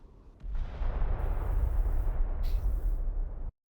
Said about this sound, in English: What was the explosion?